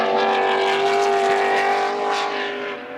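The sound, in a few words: touring cars racing flat out at Goodwood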